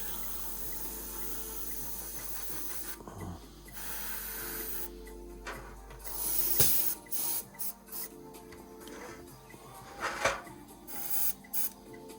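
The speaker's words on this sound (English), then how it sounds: "Don't have to bring the airbrush in too close on that one." An airbrush spraying paint onto a Revell 1/72 Type VII C submarine model, with a steady hiss at first, then short repeated bursts of spray, some louder than others, close by.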